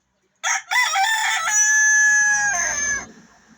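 A red junglefowl rooster gives a single loud, close crow, rising then holding a long drawn-out note before trailing off.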